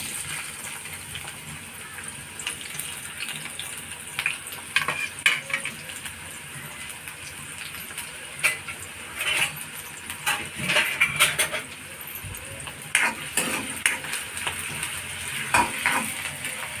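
Chopped onion sizzles in hot oil for a tempering, with steady frying crackle, occasional stirring scrapes and clinks of utensils against the pan, close and moderately loud with no talking.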